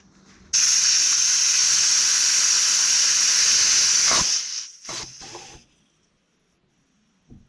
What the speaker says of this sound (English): one of the most annoying noises in the world is a leaky air thing